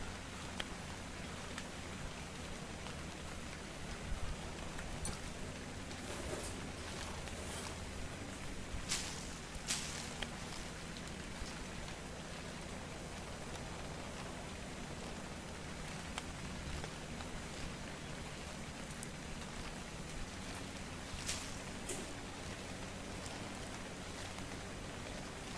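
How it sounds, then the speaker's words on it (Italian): Steady rain in the video game ARK: Survival Evolved patters continuously on a surface, with a few louder drips standing out now and then. "No, mi piove, mi piove."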